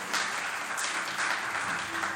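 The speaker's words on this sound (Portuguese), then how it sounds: "eu queria que a gente agradecesse com uma bela salva de palmas os meninos de Mogi" A church congregation applauds the visiting boys from Mogi after their worship music, a steady crowd of clapping that stays fairly distant and even throughout.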